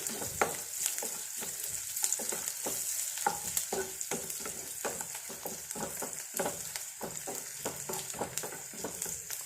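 Green chillies frying in a pan as the base for a coconut-free yogurt curry, with steady crackling sizzle and occasional stirring clicks throughout, close up and without speech.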